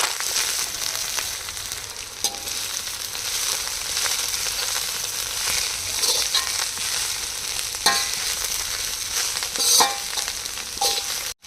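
Coriander leaves fry and sizzle in oil in a pan for a coriander chutney, in a continuous crackle broken by occasional stirring scrapes, with no talking.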